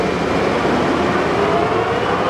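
A Leblond 36 x 132 NK lathe runs at its top speed of 500 RPM, giving a steady, fairly loud mechanical rumble and whir that holds constant throughout.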